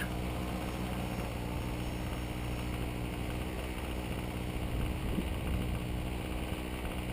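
DJI 550 multirotor drone in flight, a steady buzzing rotor drone with slight swells as it pitches and climbs, continuous for the whole stretch with no talking.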